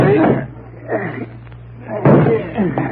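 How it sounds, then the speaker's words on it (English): Radio drama effect of a door being forced with a shoulder: a few heavy thuds and slams against the wood spaced across the clip, loud and close, with voices talking between the blows. "Come on, Penny, put your shoulder to the door."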